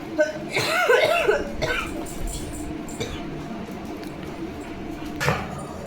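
A pet dog coughing in bursts at home, a couple of harsh hacking fits near the start and again later, with quiet room noise between.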